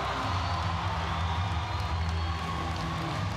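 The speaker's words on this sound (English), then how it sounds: "And this crowd roars" Arena crowd at a ONE Championship women's fight between Priscilla Hertati and Bozhena Antoniyar, roaring and cheering in a loud, steady swell with scattered clapping and whoops throughout.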